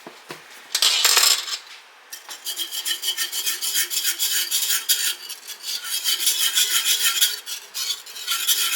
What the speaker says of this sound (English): Just continue to whisk that around until your gravy starts to thicken.